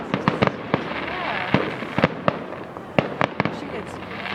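Bonfire Night fireworks in Cambridge, 2012: a rapid series of sharp bangs and crackling bursts, some close and loud, others more distant, over a steady outdoor hubbub with people chatting in the background.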